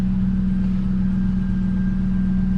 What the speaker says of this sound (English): it's gonna be a very, very annoying low engine thrum, kind of like that